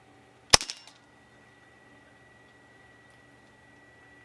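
A single sharp shot from an Evanix Viper X compact semi-automatic PCP air pistol fired off a rest bag at a range, a loud crack with a brief rattling tail, then quiet.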